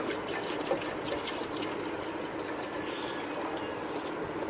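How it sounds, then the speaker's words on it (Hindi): Water pours steadily into a cooking pot for kadhi pakora, a continuous splashing trickle close by with no talking. "अब इसमें हमने 1 प्याली और डालना है पानी में।"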